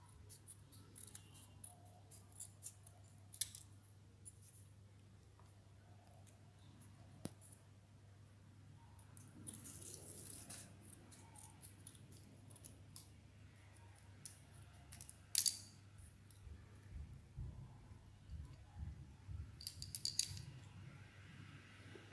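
Scissors snip through paper while a paper shirt is trimmed, giving scattered soft cuts and a few sharper snips over a steady low hum, fairly quiet and close.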